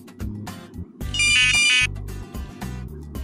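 A Delphin Optimo 9V electronic bite alarm, just pulled from about fifteen minutes underwater, emits a loud sustained electronic beep tone amid handling clatter and short bumps.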